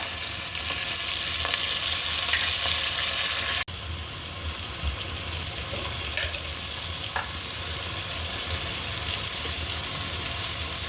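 Turmeric powder and onion paste fry in a pan for a dried-fish curry, giving a steady, close broadband sizzle that runs throughout. There is an abrupt cut partway through, and faint stirring ticks sit on top.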